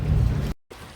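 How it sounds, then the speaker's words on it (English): Steady rain falling around a boat docked in a T-head slip at Petoskey on Lake Michigan, a dense close hiss that cuts out briefly before resuming more softly. "the rain has moved in"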